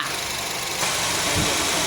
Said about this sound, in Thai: เปิดแอร์คอมดังค่ะ